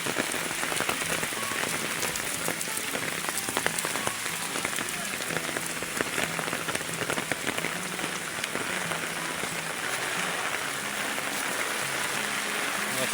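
Steady rain pours onto the road and surfaces during a monsoon flood in Konkan, with floodwater running over the street; a dense, constant hiss fills the scene with no talk over it.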